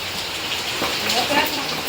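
Heavy rain pours down in a steady, dense hiss, loud and close throughout, with no break in the downpour.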